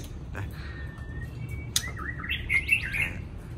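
A caged songbird at home gives a thin whistle, then a sharp snap-like note, followed by a quick run of bright, warbling chirps, close and moderately soft over quiet background hiss.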